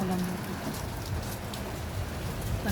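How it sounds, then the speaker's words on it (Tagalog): Heavy rain falls in a constant dense hiss near a bus stop in Nepal, close and steady throughout with no talking. "Lakas ng ulan."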